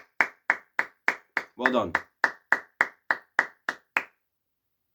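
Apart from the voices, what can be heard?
hand clapping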